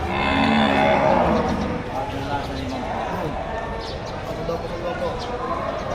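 Cattle moo at a livestock auction in Padre Garcia where cattle, goats, water buffalo and horses are sold, a loud low lowing call near the start, followed by a busy market murmur and hoof clatter.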